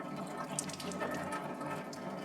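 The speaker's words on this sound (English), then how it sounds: "I have to throw some water on my face" Water splashes and trickles near a sink as someone rinses their face during a morning routine, a close, soft, continuous wash with small irregular splashes and no talking.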